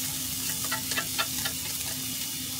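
Onions frying in a hot pan for kimchi fried rice, giving a steady, dense sizzle close by with a few soft stirring clicks and no voices.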